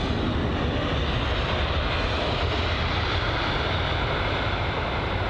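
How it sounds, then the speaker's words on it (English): An Air India Boeing 787-8 Dreamliner in special livery, arriving at London Heathrow from Delhi, gives a broad steady jet roar, heard alone from some distance at moderate loudness. "the Air India 787-8 Dreamliner arrived from Delhi"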